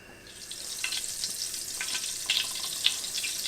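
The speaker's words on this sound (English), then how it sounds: "drop a couple of breadcrumbs in and see them start sizzling right away" Breadcrumbs dropped into hot melted butter sizzle steadily in a pan, a bright, crackling fry that rises slightly with a few sharper pops, with no one speaking.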